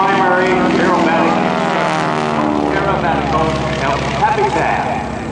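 A propeller airplane performs aerobatics at the Gathering of Mustangs & Legends air show, its engine droning loudly and continuously with shifting pitch, while a voice talks over it.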